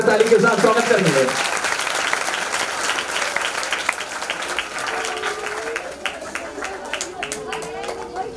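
An audience claps in warm welcome for guests at a Christian hymn gathering: dense, steady applause filling the whole stretch, with murmuring voices and faint tonal sounds rising through it toward the end.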